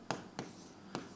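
Three separate short scratchy marker or chalk strokes on a classroom board, spaced unevenly and close by, with no talking.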